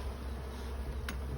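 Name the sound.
honey bees buzzing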